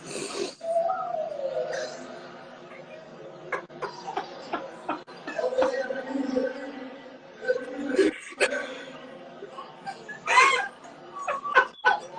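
A dog yips and barks in short bursts at a dog show, mixed with people talking and chuckling around it.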